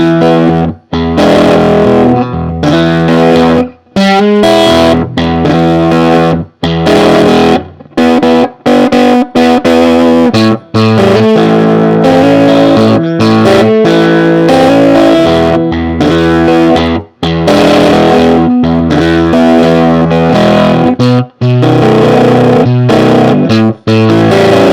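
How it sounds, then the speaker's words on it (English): A Fender Pawn Shop electric guitar, played loud with heavy distortion through an amp's clean channel at about three-quarters up, chugs out gritty, grinding chords and riffs with brief breaks between phrases. "Sounds like it has a lot of distortion."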